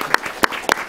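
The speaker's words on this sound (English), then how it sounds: "let us give big applause to Dr." A few scattered claps from an audience at a panel discussion on threats to the U.S.-Korea alliance, three sharp separate bursts in one second, fairly close.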